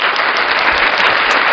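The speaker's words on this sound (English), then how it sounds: "he was clapping" A man clapping, a rapid, loud burst of claps close by for about a second and a half, crisp and continuous with no voices.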